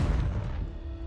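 The Confringo blasting spell from Hogwarts Legacy goes off as a deep, booming explosion with a heavy low rumble that decays over about a second, alone with no talk.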